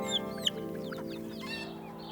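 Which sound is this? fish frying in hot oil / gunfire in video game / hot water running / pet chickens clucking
pet chickens clucking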